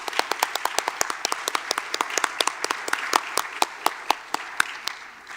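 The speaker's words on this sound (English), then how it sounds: "Let's give a round of applause for all the nominees." Audience applause for award nominees at a regional educators' awards ceremony, loud and close, with sharp individual claps standing out over a dense, sustained round.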